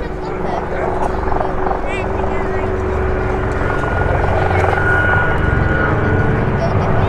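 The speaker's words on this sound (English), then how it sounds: "the aircraft are going to perform another brake manoeuvre" Gazelle helicopters at the Midlands Air Festival thunder loudly and continuously overhead with a rotor drone. A voice talks over the engine noise throughout.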